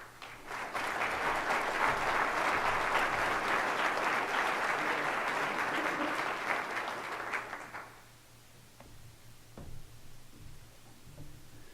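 An audience in a lecture hall applauds to welcome a speaker, sustained clapping for about seven seconds that fades out, followed by quiet room tone with a few faint knocks.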